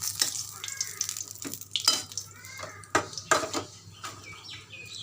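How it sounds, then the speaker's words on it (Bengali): Black cumin seeds crackling in hot oil in a kadai on a gas stove, a light uneven sizzle broken by several sharp pops and utensil knocks, close and fairly quiet. "কড়াইয়ে কালো জিরে ফোড়ন দিয়েছি।"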